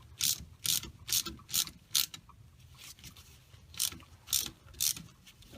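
A ratchet wrench loosening the oil drain plug on an ATV, close and clear, clicking in short bursts: five quick strokes, a pause, then three more.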